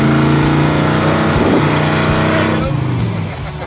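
Engine of a Richard Petty 43 tribute car rumbling steadily and loud while driving, a deep continuous roar that eases slightly toward the end.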